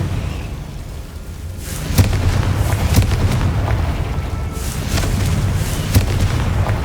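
Confringo blasting-spell explosions in Hogwarts Legacy, a run of sharp booming bursts over a constant low rumble, several distinct hits spaced roughly a second apart with no talking.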